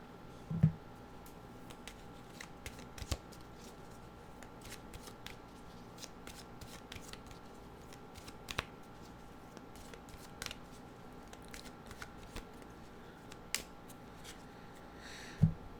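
Oracle cards being shuffled, soft papery riffles and flicks repeating close by, with a few sharper clicks at the start and end over a quiet background.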